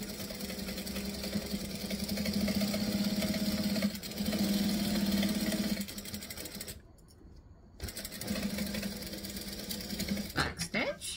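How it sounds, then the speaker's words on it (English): A sewing machine stitches and back stitches a travel bag, its motor running in steady close bursts with a brief pause before a final short run, with a voice talking alongside. "We're going to stitch and back stitch."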